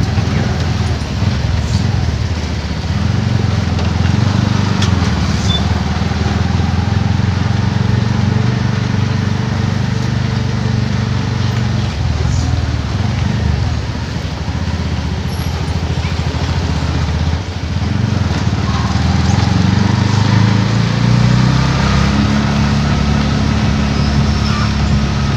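A motorcycle engine runs steadily at close range for the whole stretch, a loud continuous rumble with slight shifts in pitch and no pauses.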